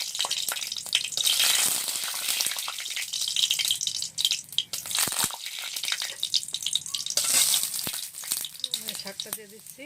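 Torn dried red chillies hit hot oil in a pan for a Bengali shrimp and kaloi greens dish, setting off a loud, bright sputtering sizzle that surges and dips with crackling bursts.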